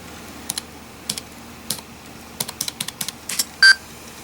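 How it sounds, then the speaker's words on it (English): Keys clack on the keyboard of a 1996 Apple Macintosh PowerBook 1400cs laptop, sparse then quicker clicks close by, ending with a short electronic beep; no one speaks. "Type it on that keyboard."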